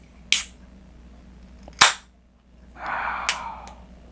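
Two sharp cracks of a beer bottle cap being pried off, then a short fizzing hiss as gas escapes, close and clear with no talk.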